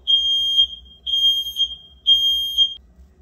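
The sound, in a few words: smoke alarm beeping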